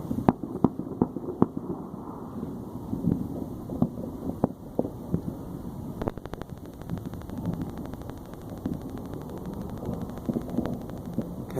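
New Year's fireworks over the Las Vegas Strip in 2016, heard as irregular distant booms and crackling pops spread across a steady wash of wind and crowd noise.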